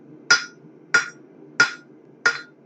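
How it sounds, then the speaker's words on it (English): A blacksmith strikes a hammer on a pair of tongs, giving four sharp, ringing metallic blows at an even, unhurried pace, loud and close with nothing else over them. "as I hammer on my tongs themselves"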